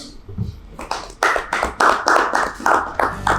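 A group claps in acclaim at a French-language Christian gathering, a few scattered claps first and then a run of loud, rhythmic, sharp claps, close and mostly without voices.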